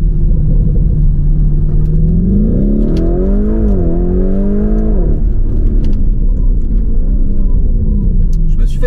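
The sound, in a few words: Lamborghini Urus with Milltek exhaust accelerating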